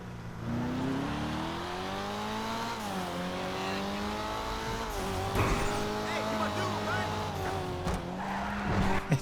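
A new DLC car in GTA 5 Online drives with its engine revving up and down through gear changes for about nine seconds. Tires squeal and skid now and then, all close and steady with no voices.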